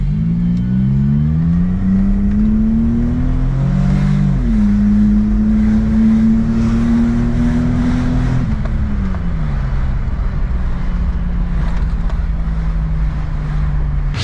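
A Mitsubishi Bravo turbo kei van with an automatic gearbox accelerates from 0 to 60, its engine loud and close, droning upward through a gear change before easing to a steady cruising hum.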